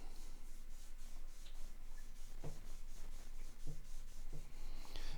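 Oil rubbed by hand into the fretboard of a Stratocaster guitar, a soft, steady, faint friction hiss with occasional tiny taps, no voices.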